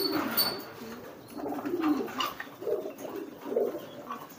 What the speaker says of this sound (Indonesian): di sini saya ada merpati piikan nih teman-teman